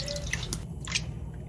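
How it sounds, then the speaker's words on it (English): Rinse water draining away from cabbage being washed for homemade Korean kimchi, a soft trickle with a few drips over a low steady background, close by and with no talking. "Now we're gonna let the water go down and drain it."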